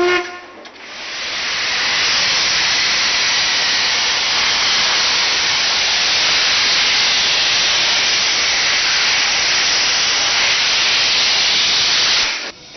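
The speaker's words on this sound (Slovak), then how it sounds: "Keď sa otvorili dvere, tak taká biela para išla." A historic steam train on the Kežmarok–Poprad line in Slovakia releases white steam as its doors open: a loud, continuous hiss that swells in quickly, holds steady for about ten seconds, then cuts off.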